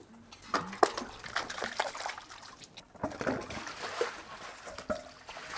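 About 20 kilograms of potatoes are scrubbed by hand in water before being made into chips, giving quiet sloshing, trickling and knocking splashes in irregular bursts.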